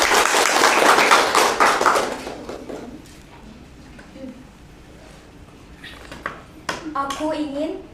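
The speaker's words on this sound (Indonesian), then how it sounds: "Ya, tepuk tangan dulu buat Anggini." An audience claps for a performer at a teaching event, a brisk, loud burst over the first two seconds that tails off, followed by quiet room sounds and a voice starting to speak.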